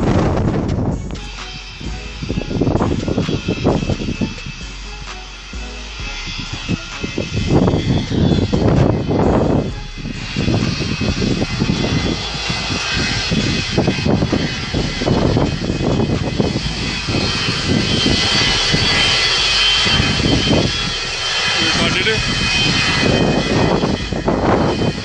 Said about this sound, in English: AmeriJet, Boeing 727 is about to touch down, and this will be the first time ever I'm getting her. at runway 28